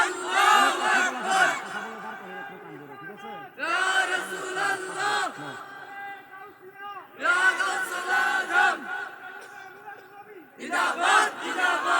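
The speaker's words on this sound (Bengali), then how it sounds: "জবানটা খুলে মুহাব্বতে হাবিব একটা তাকবীর দাও।" A large crowd at a religious gathering shouts the takbir in four loud, drawn-out collective bursts, each separated by a brief silence.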